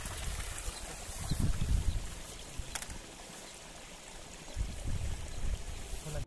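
Faint, thin water trickling and splashing over rocks, a weak flow rather than a roar, with a few slightly louder gushes.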